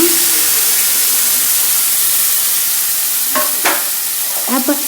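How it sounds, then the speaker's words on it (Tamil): Onion paste sizzles loudly in hot oil in a pan for baby corn butter gravy, with a steady hiss and a few scraping stirs of a spoon near the end, and no speech. "இப்போ வந்து நம்ம வெங்காயம் பேஸ்ட் ஆட் பண்ணிக்கலாங்க"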